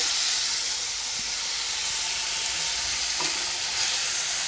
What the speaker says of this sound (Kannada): ತರಕಾರಿ ಎಲ್ಲ ಚೆನ್ನಾಗಿ ಫ್ರೈ ಆಗಿದೆ